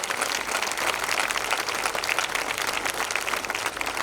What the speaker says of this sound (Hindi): एक बार तालियां बजा दीजिएगा